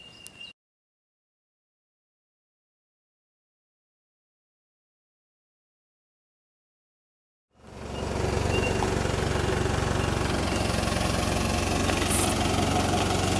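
Strimmer engine of a quarter-scale aluminium model speedboat starting up after a long silence and settling into a loud, steady, buzzing idle that continues unbroken to the end.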